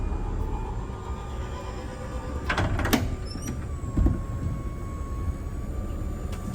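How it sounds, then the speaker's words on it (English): A mechanical whir and hum of a wheelchair ramp unfolding from a 2018 Chrysler Pacifica Braunability van, with a few clunks and rattles partway through over steady background noise. "deploying the ramp"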